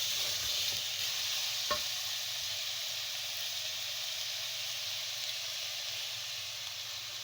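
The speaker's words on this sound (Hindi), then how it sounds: "फिर इसको 5 मिनट भूनूँगी।" Bottle gourd halwa with raisins, a little coconut and cardamom roasting in a pan gives a steady, even sizzle and hiss throughout, broken by one brief sharp clink early on.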